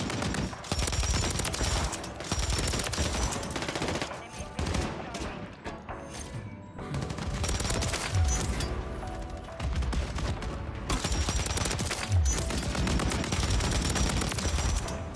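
Pulemyot 7.62 light machine gun firing in Call of Duty Modern Warfare 3 on Domination, dense loud rapid bursts that run nearly continuously with brief gaps, a faint voice underneath.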